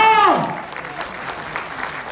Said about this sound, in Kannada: ಜೋರ ಚಪ್ಪಾಳೆ 3 ಬಾರಿ ಬರಲಿ ಇವರಿಗೆ.